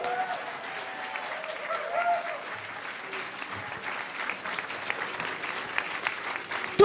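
A crowd claps steadily in continuous applause, with a voice heard briefly near the start.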